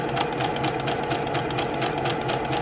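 Sewing machine stitching a pieced quilt seam, a steady rapid needle chatter running loud and close throughout with no pauses.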